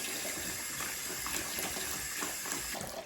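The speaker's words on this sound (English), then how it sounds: "And then I'm just gonna fill up this basin. And I'm gonna do cool to lukewarm water." Cool to lukewarm tap water runs into a basin set up for washing a human hair wig, a steady close rushing stream that fills the whole stretch with no speech.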